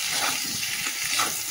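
Potatoes and taro frying in a pan with salt and turmeric give off a continuous soft hiss and sizzle, close and steady, with faint scraping stirs and no talking.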